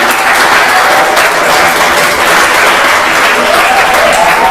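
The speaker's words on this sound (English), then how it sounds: "So shall we give one more big round of applause to our students who performed today?" Loud, dense audience applause for student performers at a school speaking summit, a continuous wash of clapping that stays full and steady from start to finish.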